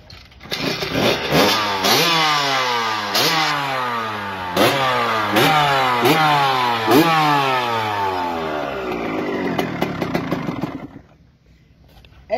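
Two-stroke motorcycle engine kicked over and catching, then revved in a series of rapid rising-and-falling bursts with a raspy, crackling tone, loud and close before it drops off near the end.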